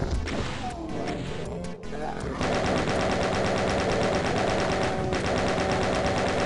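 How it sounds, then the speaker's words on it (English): Rapid, dense weapon fire from rockets launched in DOOM (1993), a loud continuous barrage of repeated blasts and impacts with a brief lull before the firing resumes and runs steadily to the end. "Fire off a few rockets."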